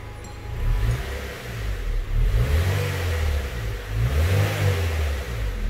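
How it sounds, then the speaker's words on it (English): A car engine revs repeatedly in a steady series of loud, close surges that rise and fall over a low idle, with no talking. "RJ, go ahead, rev it up."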